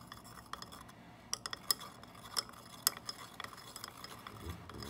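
A glass stirring rod scrapes and taps in a cornstarch and water paste, giving faint, sparse clinks and small scraping sounds at an irregular pace in a quiet room.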